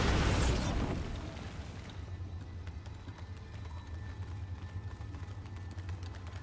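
Bombarda spell blast in Hogwarts Legacy: a loud boom bursts out at the start, then decays over about a second into a sustained low rumble and steady background hum.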